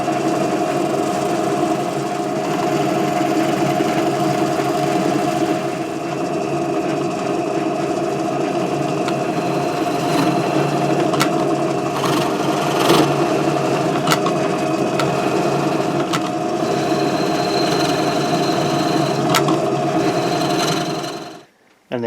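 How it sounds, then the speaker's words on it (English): A drill bores holes for the neck ferrules on a headless guitar body, with a continuous steady motor drone and occasional sharper cutting clicks. It stops abruptly at the end. "we're going to drill those 4 holes now, do our recesses, and get ready to attach the neck"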